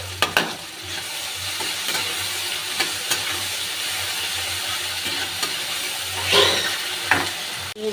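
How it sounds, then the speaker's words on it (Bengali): Ginger garlic paste frying in a pan for a fish curry, a steady sizzle with soft scraping stir strokes from a spatula, close and fairly loud, with no talking. "এবার আমি আদা রসুনের পেস্টটা দিয়ে দেবো। দিয়ে আবার একটু ভেজে নেব।"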